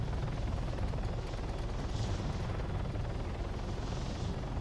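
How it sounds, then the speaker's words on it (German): Helicopter in the video game Arma 3, a faint, steady rotor drone with a low rumbling hum holding evenly under quiet game ambience, with no voices. "Ah, Heli von uns."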